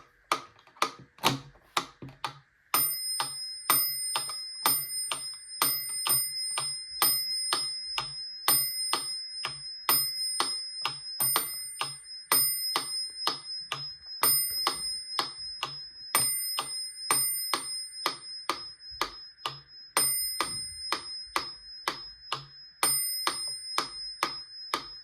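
A Wittner wooden metronome ticks steadily and evenly, with a bright bell ring marking the start of each measure, close and clear with no voices.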